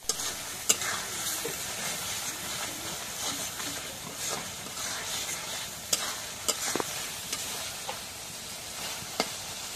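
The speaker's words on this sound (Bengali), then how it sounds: "এখন জিরা বাটা রসুন বাটা দিয়ে দিই।" Cumin and garlic paste fries in a hot pan, giving a continuous hissing sizzle with scattered sharp pops and occasional stirring scrapes, fairly close and steady.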